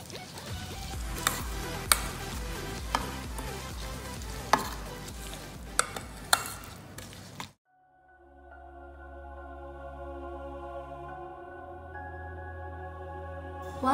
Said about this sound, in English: Then mix the mixture thoroughly with a spoon.